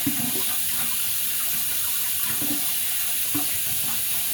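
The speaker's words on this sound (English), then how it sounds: "let me rinse my spoon off because it's getting messy" A tap runs steadily as a spoon is rinsed under it, with a continuous close hiss of water and a few soft knocks of the spoon.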